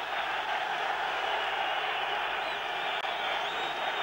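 A football stadium crowd at a Euro 1992 qualifier roars in response as Bulgaria presses forward, a dense sustained wash of cheering voices with no breaks, fairly loud and distant-sounding.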